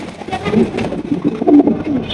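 A pair of racing pigeons coo softly in low, throaty bursts, several calls close together against a quiet indoor background.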